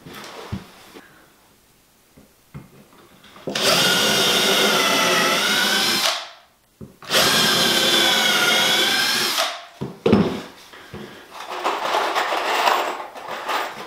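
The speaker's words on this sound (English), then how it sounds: "I'm going to drill two pilot holes and screw them in." A power drill runs in two long, loud bursts, drilling pilot holes and driving screws into wood for shelving, with a brief pause between them and quieter clicks and handling noises before and after.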